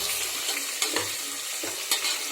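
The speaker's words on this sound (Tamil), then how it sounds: "நல்லா பொரியட்டும் அடுத்ததாக ஒரு மூணு பச்சை மிளகாய்" Three green chillies sizzle in hot oil in a pan for mushroom biryani, giving a steady bright fry with a few soft stirring knocks, close and continuous, with no talking.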